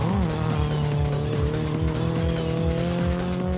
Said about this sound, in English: Drifting into a corner at 180, you need to get the back wheel spinning to make the smoke